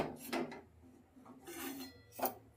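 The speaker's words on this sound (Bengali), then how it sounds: "এবার কড়াইটা আবার বসিয়ে দিলাম" A cooking wok is set back down on a kitchen stove while preparing chicken liver kosha, giving a couple of close, sharp metallic scrapes and clunks with a quieter rasp between them and no talking.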